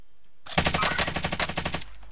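A Stoner machine gun firing in the video game Warzone: one rapid automatic burst of about a dozen evenly spaced shots lasting just over a second, loud and close, with no talk over it.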